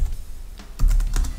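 A short burst of typing on a computer keyboard, a few quick soft key clicks close by, with a slightly louder cluster near the end and no talking.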